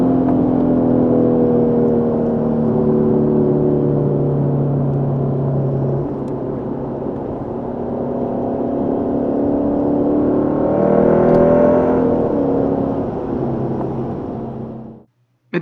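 A 2008 Lexus IS-F V8 revs and growls continuously and loudly for about fifteen seconds. The engine note rises and falls through several climbs, with a throatier surge near the end before it cuts off abruptly.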